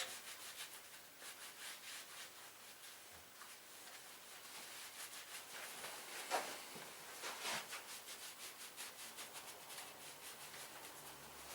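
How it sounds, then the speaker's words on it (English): Repeated close rubbing and wiping strokes as a cloth with panel wipe cleans grease off a Kawasaki Z1000 motorcycle wheel in a garage, soft and rhythmic with brief scuffs. "I'll have a bit of panel wipe on there, just to get rid of any grease at all"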